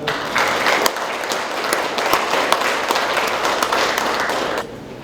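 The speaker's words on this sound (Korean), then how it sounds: "큰 박수 한번 부탁드리겠습니다." Audience applause after a closing speech at a symposium on rock inscriptions in Jangheung, a steady, dense burst of clapping from a crowd that holds for about four and a half seconds, then cuts off.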